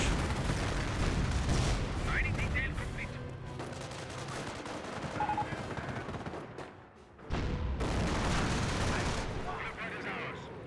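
Artillery barrage in a Company of Heroes match, sustained rumbling booms and crackling impacts with a brief lull before the shelling resumes loud, while a commentator talks over it.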